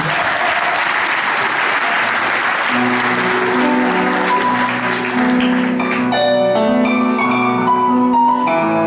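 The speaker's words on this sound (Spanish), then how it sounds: "Un aplauso para él." A live audience at a tango show gives loud, dense applause for a singer. After a few seconds the clapping fades into tango music that rises from the band.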